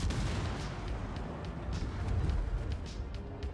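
Naval shell fire in World of Warships: dense, rumbling booms and crackling gunfire overlap continuously, with repeated heavy low thuds rolling under a busy battle din and no clear pauses.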